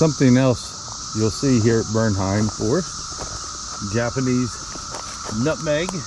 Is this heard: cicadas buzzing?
yes